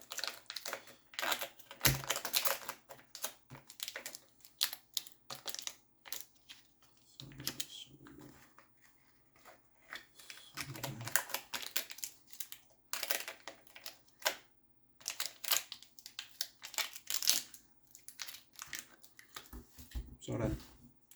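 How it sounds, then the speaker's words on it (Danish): Stencil foil folded over onto the back of a disc, giving close, bursty crinkling and crackling in irregular clusters, with soft handling rustles and brief pauses between folds. "Så folder du simpelthen bare folien om på den anden side."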